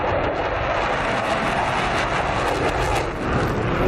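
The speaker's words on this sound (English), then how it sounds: "I think another flyby is in order here" A jet aircraft making a flyby in the DCS World flight simulator, a loud broadband engine roar that stays steady and close across the whole pass.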